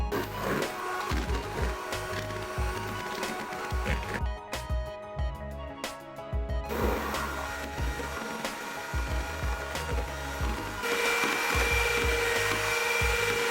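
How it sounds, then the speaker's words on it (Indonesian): An electric mixer beats egg batter for a black sticky rice sponge cake at high speed, giving a close, continuous whirring drone with rough scraping texture. It briefly changes tone midway, then grows steadier and louder near the end, with no talking. "Mixer dengan menggunakan kecepatan tinggi hingga adonan telurnya itu mengembang dan berjejak."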